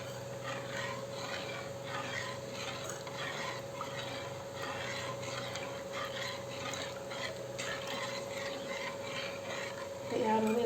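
Kadhi, a yogurt curry, stirred steadily in a pot until it boils, with a soft continuous scraping and bubbling texture over a low steady hum throughout, and a louder clatter right at the end.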